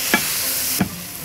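Bacon-wrapped shrimp sizzle steadily in a hot pan, with two brief scraping strokes from stirring cutting through the frying hiss.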